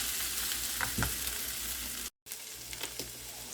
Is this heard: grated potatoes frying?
yes